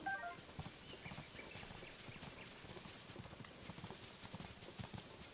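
Horse hooves clip-clopping at a steady trot in Tears of the Kingdom, a quick, even rhythm of faint thuds running throughout with soft game ambience behind.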